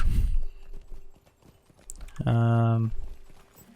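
A riding steed in The Lord of the Rings Online clip-clops in a brief burst of hoofbeats, preceded by a loud tonal mount sound and faint game ambience.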